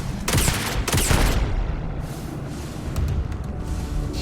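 Rapid bursts of heavy gunfire from a hard-recoiling gun in the Starfield video game, with two dense volleys early on, then a continuous loud roar of shots and booms.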